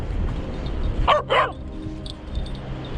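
A dog on the dog-friendly side of the beach at Downhill, County Londonderry barks twice in quick succession, fairly close and loud over steady wind and surf noise.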